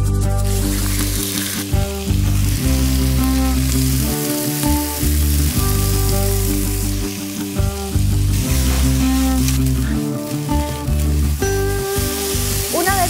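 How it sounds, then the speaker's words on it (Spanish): Chicken sautéing in a very hot wok with a spoonful or two of oil, a steady close sizzle running throughout with a strong, continuous low background hum. "en un wok o sartén muy caliente, vamos a poner 1 o 2 cucharadas de aceite y allí vamos a saltear el pollo"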